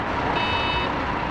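A repeated high-pitched warning beep from a coach in Fernbus Simulator sounds because the bus door was left open. The tone holds steadily through the middle of the clip over a constant low engine rumble.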